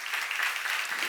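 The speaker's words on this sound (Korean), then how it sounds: "박수 한번 하세요" Audience applause during a church seminar fills the space, a steady dense patter of many hands clapping with no gaps, moderately loud and even throughout.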